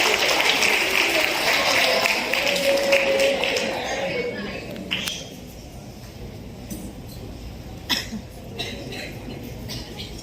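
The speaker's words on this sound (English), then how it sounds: "a big round of applause for Swinjan Maiti" Loud, sustained clapping from a crowd at a school prize day fills the first few seconds, then thins to a quieter scattered patter with a few sharper claps.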